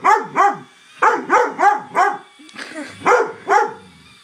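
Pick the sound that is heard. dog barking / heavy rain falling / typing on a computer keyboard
dog barking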